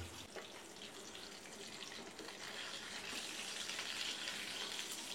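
A large Katla fish, a 23 kg catch from the Padma river, fries in a pan with a steady, even sizzle that stays constant and fairly quiet, with no one speaking.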